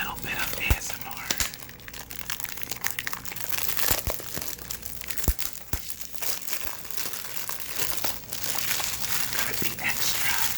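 Close crinkling and tearing of packaging as a Dior Sauvage eau de parfum box is unwrapped, steady rustling with a few sharp crackles and soft talk over it.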